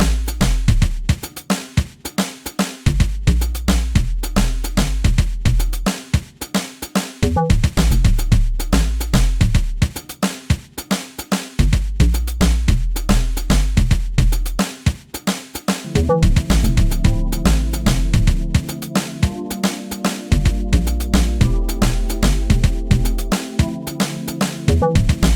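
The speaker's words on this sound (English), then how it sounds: "So the drum and the bass all together sounds like this." An amapiano groove with a deep, booming log bass locked to a busy drum beat with clicky, cowbell-like percussion, loud and continuous, with the beat getting busier toward the end and no talking.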